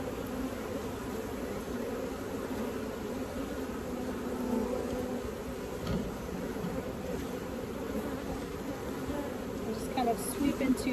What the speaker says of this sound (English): that's the majority of my bees right there